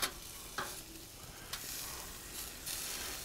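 Grand Western wagyu filets sizzling on an SNS Travel kettle grill over a bit of flame, giving a steady crackling hiss with occasional brief pops and knocks as the steaks are shifted around.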